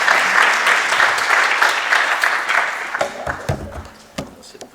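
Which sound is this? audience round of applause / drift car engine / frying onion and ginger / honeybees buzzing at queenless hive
audience round of applause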